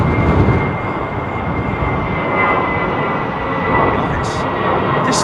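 A Saudi Arabian Airlines Boeing 787 arriving at London Heathrow gives a steady, moderately loud jet rumble with a faint whine, while a voice talks over the engine noise.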